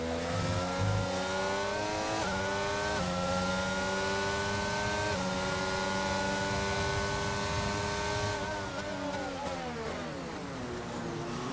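A Formula 1 race car in a sim racing game screams at high revs and climbs through the gears, the pitch dropping briefly at each shift before rising again. It stays loud and continuous throughout, with no voices.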